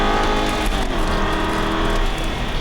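An Aston Martin V8 Vantage accelerates hard on a Las Vegas race track, its loud, close V8 roar sustained and rising steadily with no talk over it.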